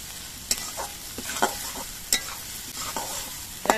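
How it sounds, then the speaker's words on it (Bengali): Chopped onions frying in a pan for a prawn and pointed gourd curry, a steady close sizzle broken by several sharp scraping stirs of a spatula, with no voices. "পেঁয়াজটা আমি লালচে রং করে ভেজে নেব।"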